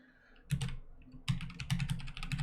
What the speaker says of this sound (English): let me go ahead and just type it in here